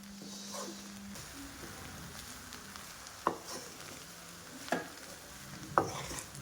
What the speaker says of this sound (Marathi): आणि चांगले मिक्स करून घ्यायचे आहे